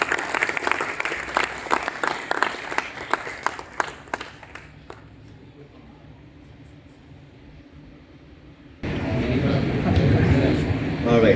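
An audience at a motivational speech event for matric graduates claps in a lively, crackling burst that thins out and fades over about five seconds, followed by near silence and then someone speaking.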